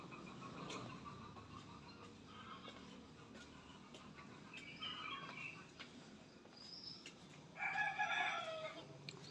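Farm chickens, with a rooster crowing loudly near the end, over faint clucking and scattered background noise in a quiet morning setting.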